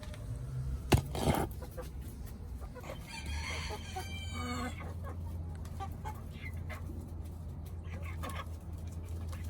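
Chickens cluck and a rooster crows briefly near the start, then softer clucking and murmuring fowl sounds continue over a low steady background hum, with faint farmyard noise and no clear speech.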